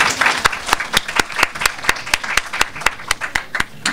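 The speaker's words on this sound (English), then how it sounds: "Give her another round of applause, please." Rhythmic unison clapping from an audience at a slam poetry event, sharp regular beats about twice a second over a softer layer of scattered applause, with no talk.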